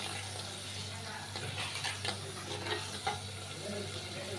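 Curry with chalta (elephant apple) being sautéed in a pan for a tengra fish curry, a close, steady sizzle with irregular stirring scrapes and soft sputters throughout.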